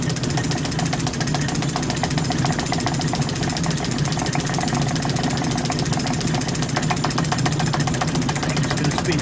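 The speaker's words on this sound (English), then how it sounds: "I'm just going to speed the lathe up a second." A metal lathe runs steadily while a locking lever for its tailstock quill is machined, giving a close, constant mechanical hum with a fine rapid rattle throughout and no talk.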